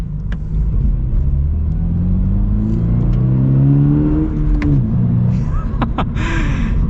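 A 2023 Subaru BRZ manual two-door sports car is heard from the cabin as it drives over a dip, with a steady engine drone rising and then easing off, a few clunks and thumps from the suspension, and faint talk.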